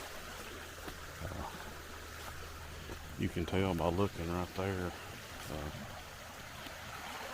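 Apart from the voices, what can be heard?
creek flowing after flooding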